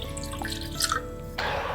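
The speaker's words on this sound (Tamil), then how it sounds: "ஒரு பாத்திரத்தில் கஞ்சிக்கு தேவையான அளவு நம்ம தண்ணி விட்டுக்கலாம்." Water is poured into a cooking vessel while making porridge. It gives a brief trickle with soft drips and a faint splash that grows a little fuller near the end, heard close without talk.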